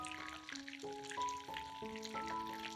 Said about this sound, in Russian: Обжариваем рулеты с одной стороны, а затем переворачиваем на другую сторону.